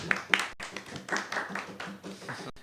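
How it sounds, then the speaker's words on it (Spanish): Audience clapping at a live show by Planeta No, a burst of applause from a small crowd, close and fairly loud, with overlapping voices and cheers mixed in. "Un aplauso"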